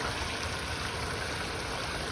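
Water spills steadily over a pondless garden waterfall, a dense, even rushing wash heard up close with no voices.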